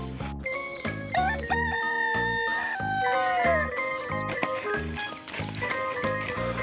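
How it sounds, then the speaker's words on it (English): A white and black rooster crows over loud, steady background music, its call rising and drawn out for a few seconds in the middle. "Rooster."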